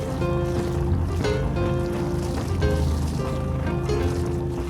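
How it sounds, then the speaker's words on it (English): A steady boat engine rumble mixes with continuous splashing and gurgling of cooling water discharging from the exhaust, close and constant throughout, with no voices. "the sound of cooling water coming out the exhaust"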